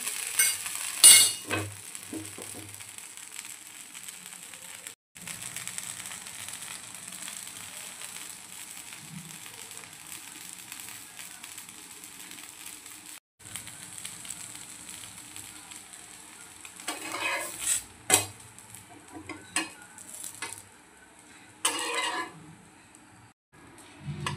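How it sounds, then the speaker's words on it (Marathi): Dosa cooking on a hot pan, a faint steady sizzle and fry hiss with occasional scraping and stirring sounds, quiet and close, louder scraping bursts near the end. "खालून होऊन निघला की डोसाला हलवायची पण गरज पडत नाही. थोडंसं पलटून टाकूया."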